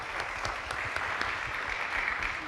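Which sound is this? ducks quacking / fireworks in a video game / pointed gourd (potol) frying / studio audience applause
studio audience applause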